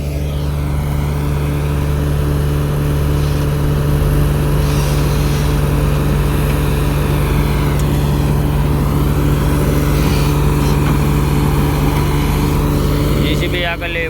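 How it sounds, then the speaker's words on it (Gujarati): A JCB's engine roars loud and close throughout a tractor rescue, with a steady heavy diesel drone and a voice talking briefly over it. "જીસીબી આગળ લેવી પડી થોડીક, કારણ કે અવાજ જ એટલો થાય"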